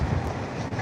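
Strong wind buffets the microphone in a loud, steady roar, a brief gusty rumble with no voices, in Blackpool.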